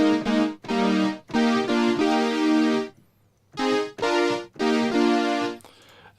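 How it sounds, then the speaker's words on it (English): A Korg MS-20 synth plays an 80s-style brass stab: a series of bright, harmonically rich chord hits in rhythmic bursts, with a brief silent gap midway, loud and clear with no voices. "Then we have the MS-20."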